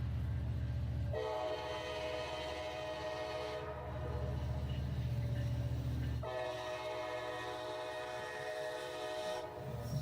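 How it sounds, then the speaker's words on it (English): Norfolk Southern locomotive NS 1073 rolling past with a train, a loud steady diesel rumble with two long horn blasts, close and continuous throughout. "Here comes the locomotive that needs new paint."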